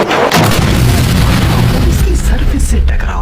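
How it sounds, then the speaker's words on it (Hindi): A huge object strikes the Moon's surface in a loud, booming blast that rumbles densely for the whole stretch, with a voice talking over it. "अचानक चांद की सरफेस पर एक जोरदार धमाका हुआ"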